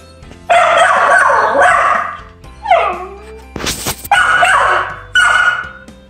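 Several Australian Shepherd puppies barking loudly and close by in sharp bursts, with some high yips and whimpers and a brief loud clatter midway.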